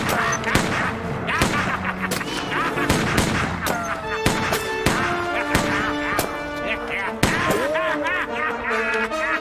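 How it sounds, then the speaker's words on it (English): Rapid movie gunfire from a six-shooter revolver, a dense string of sharp cracks fired repeatedly over a music score, with voices talking between the shots. "that's sure a lot of shots for a 6-loader that isn't even loaded"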